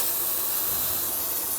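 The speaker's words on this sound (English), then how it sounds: "I'm going to take some brake parts cleaner, spray it all over to get rid of all the brake fluid." Aerosol brake parts cleaner sprays in a steady, close hiss from start to finish while flushing spilled brake fluid off a 2003-2009 Dodge Ram 2500 brake master cylinder area.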